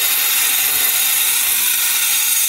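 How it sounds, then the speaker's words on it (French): A concrete saw grinds steadily through the base of a crystal stone, giving a continuous high, abrasive whine at a close, loud and constant level with no talking. "Alors, tu vois, même une scie à béton,"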